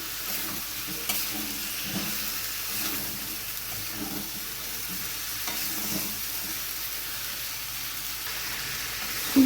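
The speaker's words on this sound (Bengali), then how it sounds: "আবার আমি ভালো করে ফুলকপি দিয়ে নেড়ে নেবো" Cauliflower and potatoes fry with spices in a pan for a Bengali prawn-cauliflower dish, stirred with soft scraping strokes over a low, constant sizzle. The sound stays fairly quiet and steady, with no talking.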